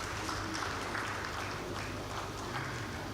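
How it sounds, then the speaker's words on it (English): Applause at a conference in Africa for a speaker, a dense steady wash of clapping that fills the room at a fairly low, even level with no breaks. "can we give this gentleman a round of applause"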